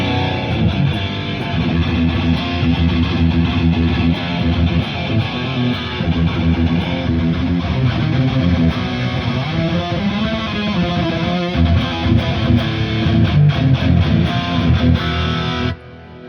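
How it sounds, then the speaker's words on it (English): Thick, heavily distorted electric guitar through a touring amp rig plays continuously, loud and dense, ringing out for about fifteen seconds before cutting off abruptly. "So the dirty tone sounds like this."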